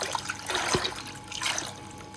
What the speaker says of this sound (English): I will rinse them off in fresh water and give them a toothbrush